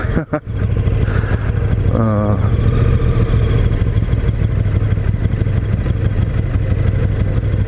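A 2018 KTM 1290 Super Duke motorcycle engine drones steadily while riding, a loud, continuous low rumble with wind noise that holds throughout after a brief dip at the start.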